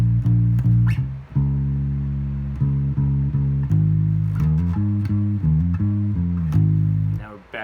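Bass guitar plays a bass line alone, a steady run of low sustained notes with octave jumps and short gaps, loud and close with no talk.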